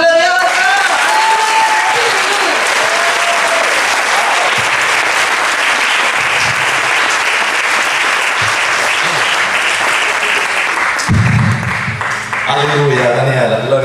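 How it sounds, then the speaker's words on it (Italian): A church congregation breaks into loud, sustained applause during a prayer gathering, dense clapping that fills the room from start to finish, with voices and cheers mixed in and a speaking voice coming through near the end. "Vi chiedo un applauso glorioso!"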